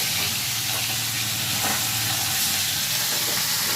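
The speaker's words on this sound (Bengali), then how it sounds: "এই যে মাছ ভাজা হাফ হয়েছে, হাফ হচ্ছে" Fish frying in a pan of hot oil, a loud, close, continuous crackling sizzle that holds steady for the whole stretch.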